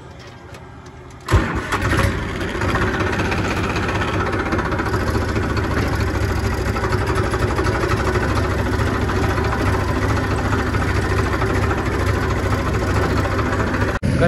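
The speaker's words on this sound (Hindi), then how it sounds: "ले भाई ट्रैक्टर ना कंपाइन के पास ले चला वहां पे" A tractor engine runs steadily near a combine harvester during a paddy harvest, a loud continuous low rumble that starts abruptly after a brief quieter moment and holds close and constant throughout.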